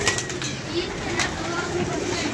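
Pigeons kept by a fancier coo and stir close by, soft murmuring calls and occasional wing flutters over a noisy background, with someone talking at times.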